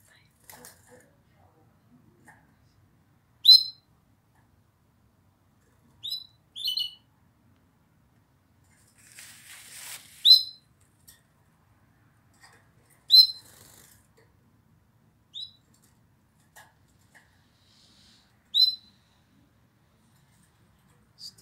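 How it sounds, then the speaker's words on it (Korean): Canaries kept indoors at a friend's home in Pohang give short, bright chirps and trills spaced every couple of seconds, fairly close and alone with no talk over them. "카나리아."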